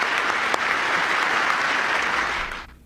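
Sustained audience applause at a political event, a dense wash of clapping that continues steadily before tapering off at the end.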